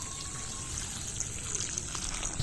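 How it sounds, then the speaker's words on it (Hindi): Water drains from soaked rice in a village kitchen, a faint steady gush and trickle. "पानी डालकर भिगो के रख दिया था, तो अभी इससे पानी जो है ना अलग कर लेंगे।"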